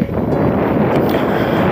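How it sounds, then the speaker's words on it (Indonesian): Strong wind blows across open salt evaporation ponds, a loud, continuous roaring buffet of dense noise battering the microphone without letup. "Di sini anginnya kencang sekali."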